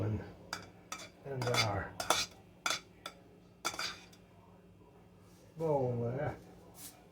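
Chicken salad ingredients such as soft celery go into a bowl with clinks and scrapes of a utensil against the dish, a few sharp knocks and a stirring rattle, close by, while someone talks over them.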